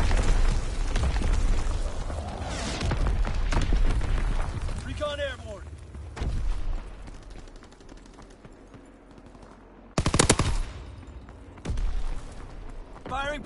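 Artillery barrage in the World War II shooter Call of Duty WW2 booms and crackles with scattered heavy explosions and gunfire bursts, loud impacts standing out near the middle and end, under radio-style voices.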